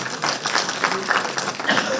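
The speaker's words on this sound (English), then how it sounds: "Big applause for him" Audience applause at a microfinance summit session, a steady wash of clapping from a seated crowd that fills the whole moment without a break.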